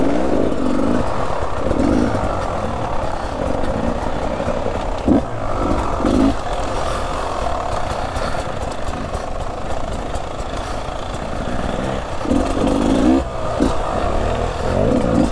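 2018 Beta 300RR dirt bike engine on a trail hill, a continuous rough near engine drone with repeated revving surges and clattery bursts.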